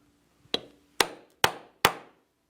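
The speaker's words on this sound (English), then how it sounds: "I'm going to use a strap end punch" Four sharp, evenly spaced blows strike a strap end punch to cut leather guitar strap ends. Each close, loud crack decays quickly into near silence.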